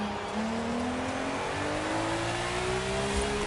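A McLaren F1 V12 engine revving hard and close, a loud continuous howl climbing steadily in pitch with a rough rasping edge, no voices over it.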